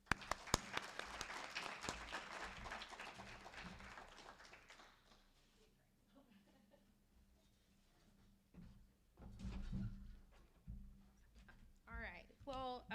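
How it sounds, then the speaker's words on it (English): Applause from a crowd fades out over several seconds, followed by quiet room noise and then a person starting to speak. "So please help me give a round of applause to Sarah."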